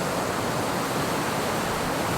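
Waterfall at Kings House on a very wet, rainy day, a dense unbroken roar of rushing water, steady and loud with no voices.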